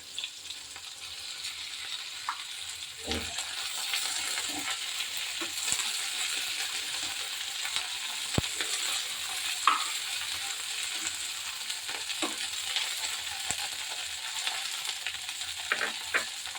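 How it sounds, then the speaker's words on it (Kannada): Native garlic roasting in oil over a low flame for garlic chutney, heard as a soft continuous sizzle with occasional stirring scrapes and light clicks of a spoon against the pan, close up. "ಲೋ ಫ್ಲೇಮ್ ಇಟ್ಟು ಒಂದು ಐದರಿಂದ ಹತ್ತು ನಿಮಿಷದವರೆಗೂ ಇದು ಹುರ್ಕೋಬೇಕು ನೋಡ್ರಿ"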